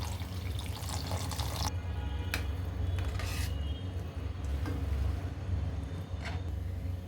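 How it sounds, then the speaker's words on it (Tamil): Water pours steadily into a pan of raw jackfruit gravy with a splashing, trickling flow over a low background hum. "இப்போ இதில் 1 டம்ளர் தண்ணி சேர்த்துக்கிறேன்"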